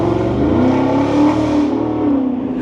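A Ford S650 Mustang GT fitted with an MBRP race exhaust revs loudly and close, its deep burbling note rising and falling, with no voices.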